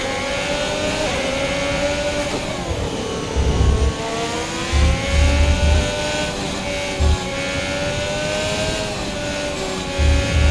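A Formula 1 race car in F1 2021 holds a loud, steady high-pitched engine note at full throttle with no voices, the pitch sagging briefly under a shift or lift before climbing again, with intermittent low thumps from kerbs.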